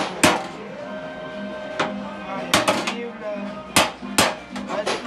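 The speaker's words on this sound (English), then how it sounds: "is demonstrating how they draw the design and then hammer it out" A craftsman hammers a design into copper by hand, giving sharp metallic strikes at irregular intervals, some in quick pairs, close and loud over faint background voices.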